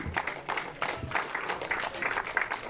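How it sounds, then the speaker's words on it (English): Audience applause at a karting event, a steady wash of many hands clapping for nearly three seconds, moderately loud with dense overlapping claps. "round of applause and we are continuing"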